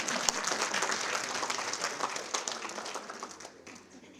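An audience of women at a political gathering applauds in a dense, loud burst of clapping that holds steady and then tapers off toward the end.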